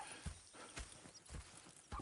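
Horse hooves in the video game Red Dead Redemption land in slow, spaced clops, about four distinct steps at a walking pace, fairly close and moderately loud.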